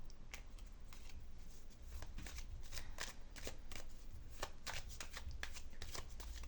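Close, crisp shuffle of a tarot-style deck for a name card reading, with a rapid train of riffling snaps and soft slides repeating without pause.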